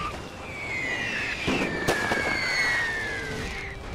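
Artillery shell explosions from the Napoleon Total War game with The Great War mod: sharp bursts and pops crackle at close range amid whistling, sweeping tones, with a dense battle din running continuously underneath.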